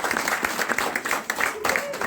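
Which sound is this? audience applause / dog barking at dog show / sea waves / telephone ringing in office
audience applause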